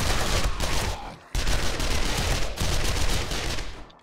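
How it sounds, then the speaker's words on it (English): Submachine gun fire in the zombie survival game 7 Days to Die, loud rapid bursts of continuous automatic shots close up, split by two brief pauses between sustained volleys. "I think we're gonna need to SMG this guy"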